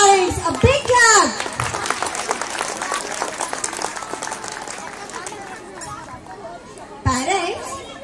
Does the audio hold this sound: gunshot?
no